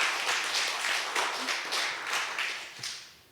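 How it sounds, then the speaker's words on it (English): A brief burst of audience clapping, fairly close and somewhat sparse, swelling in waves before tapering off at the end. "Please, a massive round of applause for our writers."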